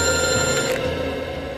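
An electronic telephone ring sounding steadily and loudly for a moment, a continuous bell-like tone with no voices.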